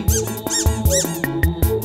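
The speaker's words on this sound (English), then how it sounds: "I love that squeaky sound." A squeaky toy squeaks in a quick, regular series of loud, close, bright squeaks, with a bouncy musical backing underneath.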